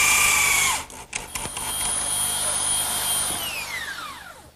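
A power drill drives a screw into a wooden garden bench frame. It opens with a loud high whir, then after a brief pause runs steadily and winds down with a falling whine as the motor slows to a stop.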